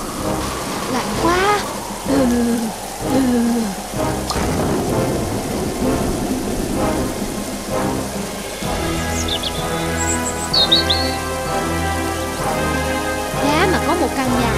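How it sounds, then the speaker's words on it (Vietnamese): Steady rain pours down with rumbling thunder in an animated folk tale scene on cold, rainy days, a continuous loud downpour under people talking. "Sao mưa mãi không tạnh thế nhỉ?"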